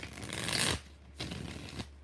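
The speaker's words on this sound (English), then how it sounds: "Last shuffle." A deck of tarot cards is shuffled in two close bursts of papery riffling, the first longer and louder, the second lighter, separated by a short pause over a faint room hum.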